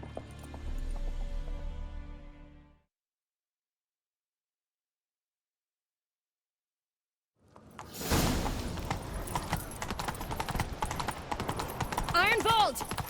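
Horse hooves clatter in a fast galloping rhythm with whooshing movement in The Witcher 3: Wild Hunt, following a long silence after an earlier stretch of sound.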